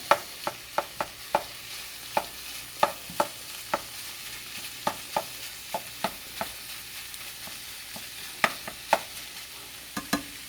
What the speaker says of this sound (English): We're going to break up this meatball here. Let that start cooking.